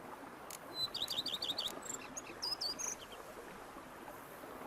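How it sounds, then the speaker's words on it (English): Birds chirp in short rapid bursts of tweets over a soft steady ambient hum in the Blood and Wine countryside of Witcher 3, faint and fairly distant, with no talk. "bees buzzing, birds chirping"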